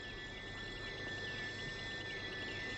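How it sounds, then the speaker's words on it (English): Thousands of jungle crickets chirp at dusk in Indonesia, a dense, steady, shrill trilling that fills the air without pause. "In the dusk, the jungle crickets, thousands of them, are almost deafening."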